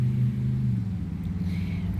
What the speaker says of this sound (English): I apologize if it's very loud. There's a lot of traffic.